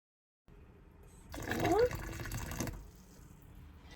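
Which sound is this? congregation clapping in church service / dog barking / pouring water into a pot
pouring water into a pot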